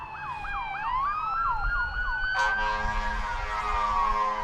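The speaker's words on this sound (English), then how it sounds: "Ambulance already." An ambulance siren wails loudly and close by on a street near a parking lot, its rising and falling yelp shifting into a steady held tone partway through, with traffic noise underneath.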